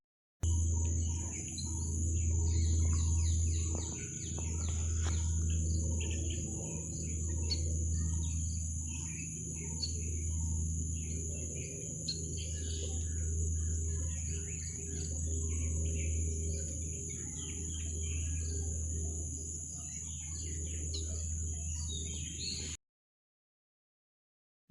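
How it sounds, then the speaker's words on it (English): Munias in a flock give soft, high chirps and thin whistles over a steady low hum and insect-like buzz, the calls scattered and fairly faint throughout before an abrupt cut to silence near the end. "They forage in flocks and communicate with soft calls and whistles."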